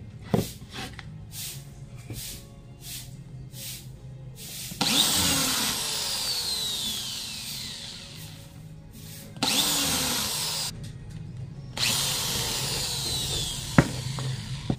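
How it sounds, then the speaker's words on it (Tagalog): An electric drill whines in several bursts as it bores holes in an airsoft 30-round magazine, with the pitch sliding as it bites, separated by quieter handling sounds. "gamit to ating barena, bubutasin natin"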